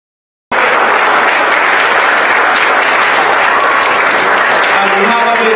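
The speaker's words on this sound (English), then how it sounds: "So let us give a round of applause" A church congregation at the Santa Cruz Church of the Nazarene bursts into loud applause, dense continuous clapping that begins suddenly and holds steady for about five seconds, with voices faintly mixed in near the end.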